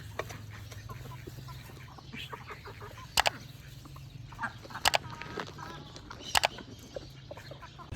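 Chickens cluck intermittently nearby over a steady low hum, with a few sharper squawks standing out near the middle and end.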